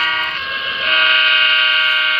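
A freight train carrying hazardous materials sounds a loud, sustained horn that swells louder partway through, over a low rumble of rolling cars.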